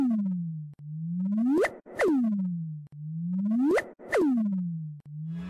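Sonified gravitational-wave chirp from two colliding neutron stars: a steady electronic tone that sweeps sharply upward into a bright whoop, repeated about twice, with soft clicks between the sweeps and no voices.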